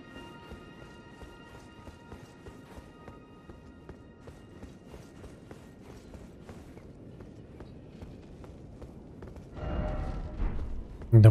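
Horse galloping in Elden Ring, a rhythmic run of hoofbeats with mechanical creaks, moderately close, ending in a louder rush of sound.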